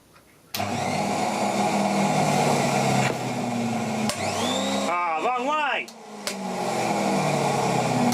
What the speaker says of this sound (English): the vacuum cleaner going again